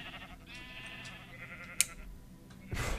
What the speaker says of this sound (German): Da sind doch schon ein paar Schafe nachgewachsen.